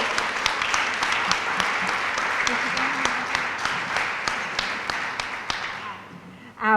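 Applause for Anthony Curial at a Cross of Merit nomination ceremony in a hotel hall: dense, steady clapping from a sizeable audience with sharp individual claps standing out, continuing for several seconds before thinning out at the end.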